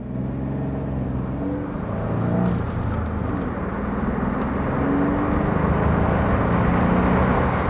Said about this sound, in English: Still got a good sound for a high-up Jeep vehicle.